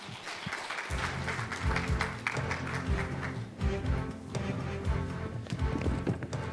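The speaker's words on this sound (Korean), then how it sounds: "큰 박수로 모십니다." Applause for a speaker at a policy platform launch event, heard as scattered, uneven clapping with irregular thumps, moderately quiet and continuous throughout.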